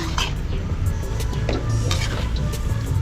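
Utensil scraping and clinking against a pot as eel adobo in coconut milk is stirred, with a soft sizzle of cooking underneath.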